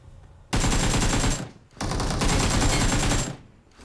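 Two long, loud bursts of rapid automatic gunfire from the battle royale game PUBG Mobile, separated by a brief pause, with no voices.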